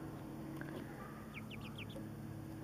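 Chickens settling in for the night give a few soft, quick clucks in a brief run, fairly faint over steady background noise, with no talking.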